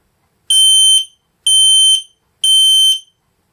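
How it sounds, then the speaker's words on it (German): An X-Sense smoke detector sounds three loud, piercing, identical high-pitched beeps, each about half a second long with even gaps, in an otherwise silent room. "Ihr seht, Rauchmelder ausgelöst."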